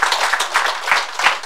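A small crowd at a numerology graduation ceremony claps, a close, brisk burst of overlapping handclaps lasting only a moment.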